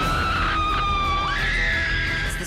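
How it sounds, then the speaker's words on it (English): A long, loud, sustained high-pitched scream from a science fiction monster movie, wavering and rising in pitch partway through, filling the scene alone. "And then it comes out as a scream"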